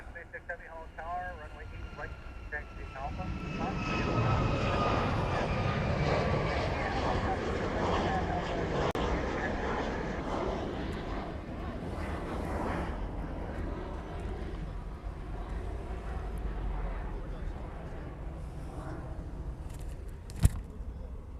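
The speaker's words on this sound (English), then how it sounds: "Gulfstream variant of a military plane." A Compass Call military jet, a Gulfstream variant, flies past near Honolulu airport in Hawaii, its engine roar swelling to a broad sustained rumble and slowly fading, with a person talking over it.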